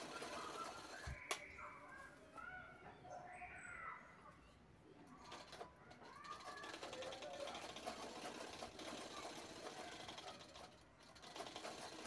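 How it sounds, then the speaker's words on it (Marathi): A sewing machine runs steadily while stitching the sides of a turned-out cloth tote bag at home, its motor hum continuous and moderately close, with faint bird calls and a voice speaking briefly near the start. "आता बॅग उलटवून आपल्याला दोन्ही साईड शिवून घ्यायच्या आहेत"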